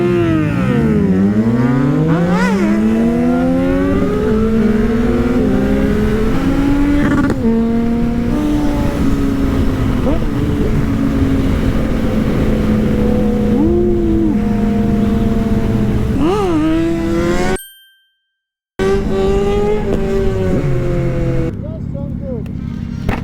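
A Suzuki Gixxer 1000 sportbike and other motorcycles on a group ride rev and roar past, engine pitch sweeping up and down through gear changes, loud and close, with a brief dropout and people talking over it.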